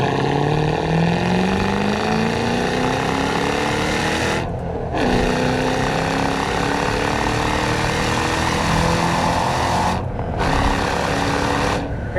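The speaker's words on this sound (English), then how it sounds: "Hear that supercharger whine." A supercharged 5.4-litre 2007 Shelby GT500 with a six-speed manual, its supercharger whining in rising sweeps while driving under a loud, continuous engine roar, with two brief drops during gear shifts.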